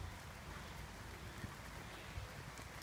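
Rain falls through the woodland canopy on a wet woodland walk, a faint, steady wash of hiss with scattered drips and patters, no one speaking.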